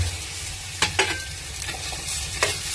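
Four eggs with drumstick leaves frying in a pan are stirred, a steady sizzle broken by a few sharp scraping strokes of the spoon, close and clear with no talk.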